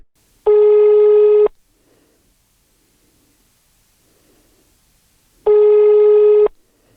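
A telephone call rings unanswered: two steady one-second ringback tones sound clearly on the line, separated by about four seconds of near silence.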